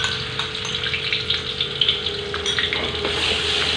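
Ground spice paste of shallots, garlic, candlenuts and red chili hitting hot oil in a pan, a close, continuous sizzle with wet bubbling and intermittent spitting crackles, no voices.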